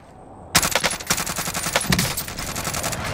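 An airstrike strafing run in Call of Duty: Modern Warfare: after a brief quiet moment, a loud, rapid machine-gun burst erupts and keeps firing in dense, rattling volleys.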